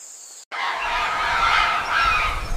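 Birds of the Amazon rainforest call loudly and close, a dense cluster of squawks and honking cries that starts abruptly and continues without pause.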